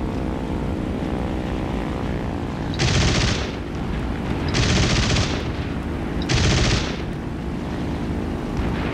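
Aircraft machine guns firing in the War Thunder combat game over a constant propeller engine drone, three loud bursts each lasting about a second.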